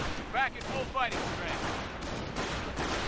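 Video game artillery fires twice in quick succession, each shot a sharp blast with a trailing boom, over a steady battle din.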